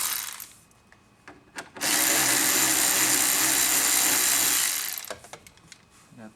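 Power screwdriver removing a screw from the instrument cluster trim of a Chevrolet Impala, one loud steady whir of about three seconds between quieter clicks and handling noises.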